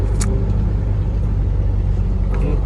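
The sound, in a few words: dump truck engine, very loud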